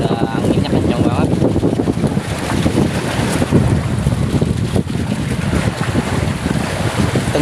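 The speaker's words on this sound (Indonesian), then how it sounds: "udah anginnya kencang banget" Strong wind roars steadily over open sea around a fishing platform near a coral reef island, buffeting the microphone, with waves and a boat engine underneath and people talking faintly.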